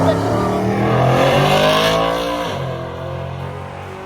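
A big-tire Chevrolet C10 drag racing truck launches down the strip, its engine roaring loud and steady at high revs before the pitch drops as it pulls away, with voices talking over the noise.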